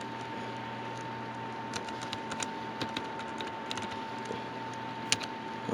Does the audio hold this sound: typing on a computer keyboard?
yes